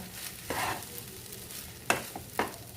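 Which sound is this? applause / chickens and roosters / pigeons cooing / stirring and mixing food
stirring and mixing food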